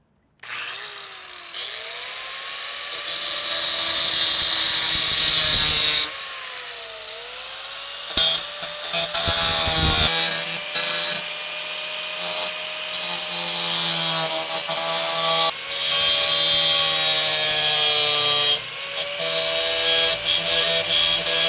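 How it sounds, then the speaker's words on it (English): An angle grinder cuts through nails poking up through a roof, a loud close high-pitched whine with long grinding bursts, shifting pitch and brief drops as the blade bites into the metal, no talking. "Grinder."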